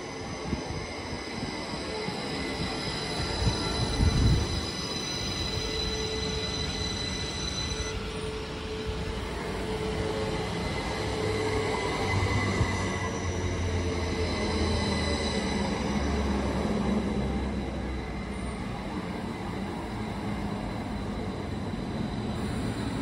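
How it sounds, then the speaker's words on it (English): A train rumbles steadily past for a long stretch, wheels clattering on the rails with a faint squeal and a constant mechanical hum. "So I'm just going to wait for our train now."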